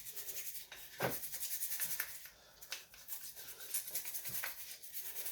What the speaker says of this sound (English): Give that a bit of a toothbrush clean.